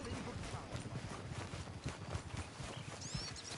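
Horse hooves in Red Dead Redemption 2 pound out a steady, close clip-clop of galloping that runs without a break, with a busy game soundscape underneath.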